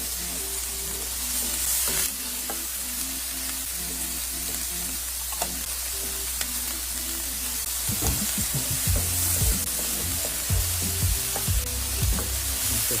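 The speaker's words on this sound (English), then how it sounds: "just mix those up, let them brown up, saute them" Onions and vegetables sauté in a pan over medium heat, a steady close sizzle broken by the scrape and clatter of stirring, with no talk.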